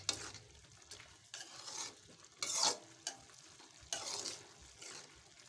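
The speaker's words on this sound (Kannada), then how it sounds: "ಹಿಂಗೆ ನೀವು ಒಗ್ಗರಣೆಯಾಗ ಶಾವಿಗೆ ಹುರಿದು" Vermicelli roasts in a spiced tempering for shavige upma, a soft sizzle broken by repeated scraping stirs of a spoon against the pan at an uneven pace.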